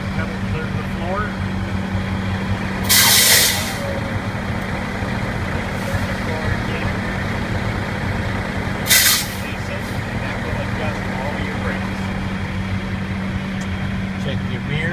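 A truck idles steadily with a low engine drone, broken twice by loud, sharp hisses of air brakes being applied as the brake pedal is pressed to the floor, each burst lasting under a second.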